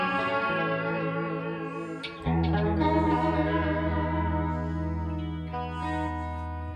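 Electric guitar routed through an Ibanez chorus pedal after an Eventide unit, sustained chords with a shimmering, wavering chorus and slight grit, a brief pause then a louder strummed chord ringing out alone.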